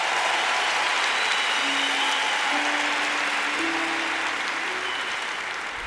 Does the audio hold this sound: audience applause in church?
yes